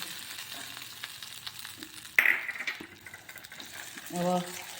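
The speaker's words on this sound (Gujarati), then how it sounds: "આ તલ ને ખીરું વઘારી દીધું" A short burst of sizzling as sesame seeds hit hot oil to temper a dhokla batter, crackling briefly amid kitchen clatter and faint background noise.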